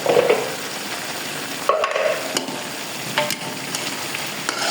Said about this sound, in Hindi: साथ ही हम ये सब्ज़ी मिर्चें डाल देंगे, और साथ ही ये सारे ये मसाला जार डालेंगे।